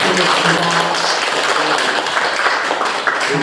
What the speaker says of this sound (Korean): 소중하고 귀하신 큰 지혜 말씀을 해주신 저희 목격찬 교수님께 다시 한번 큰 박수 부탁드리겠습니다.